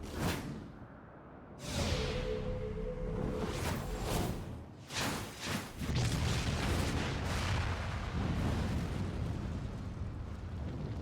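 A cannon being blasted apart in Final Fantasy XIV: a sharp explosive burst opens, followed by a long roaring, rumbling blast with whooshing debris that stays loud and dense to the end, with no talk over it.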